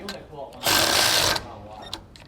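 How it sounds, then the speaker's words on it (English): A socket wrench or power driver with a 15mm socket snugs down bolts while fitting a Roadmaster rear anti-sway bar on a 2020 Thor motorhome, giving one loud, steady mechanical whir of under a second between stretches of quiet talk. "We're going to use a 7/32 Allen and a 15mm socket. And we'll get those snug down."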